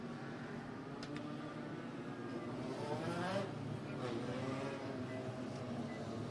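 Dirt-track race car engines roar and rev at Benton County Speedway during a Midwest Legend Dirt Series race, a mid-distance rising and falling drone under steady announcer commentary.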